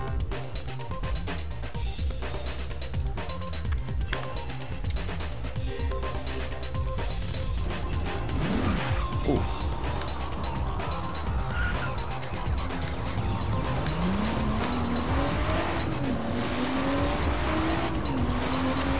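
A Nissan Skyline driven in Forza Horizon, its engine droning steadily with rising and falling revs and tire squeal through corners, continuous and close throughout.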